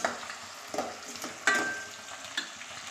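Tomatoes frying in a pan after onions, with a steady soft sizzle and a few stirring clinks and scrapes, close and moderately quiet, no talking.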